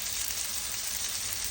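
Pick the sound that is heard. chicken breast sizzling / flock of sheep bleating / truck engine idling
chicken breast sizzling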